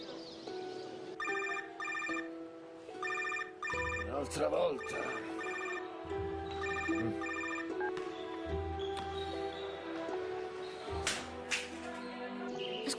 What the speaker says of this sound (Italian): Squilla, ma non risponde